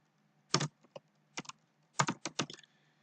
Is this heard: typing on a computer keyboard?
yes